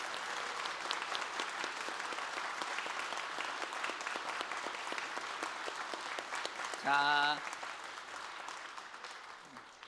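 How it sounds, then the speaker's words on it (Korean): Sustained, dense applause from a church congregation at a New Year intensive prayer meeting, steady and loud throughout, with a brief spoken voice cutting in near the end. "한 번 더 뜨거운 박수합니다."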